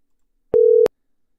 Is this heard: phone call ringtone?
yes